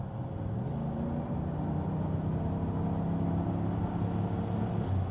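A 1998 Bentley Continental Mulliner RSE accelerates at full throttle, heard from inside the cabin as a steady, deep engine drone that rises slightly in level, with no talk.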